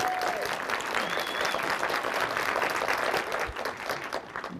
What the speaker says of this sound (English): so he really deserves that applause